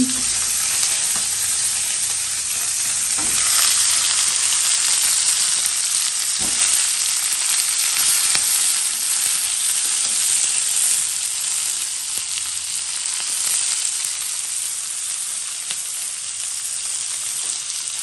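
Chopped tomato pieces frying in a pan with green chillies for garlic pulusu, a loud, steady close sizzle and hiss with a few faint stirring knocks, no voices.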